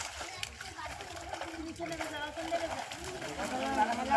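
Freshly caught fish thrash inside a fishing net hauled in at a rural pond, making watery splashes and sloshing under someone talking close by.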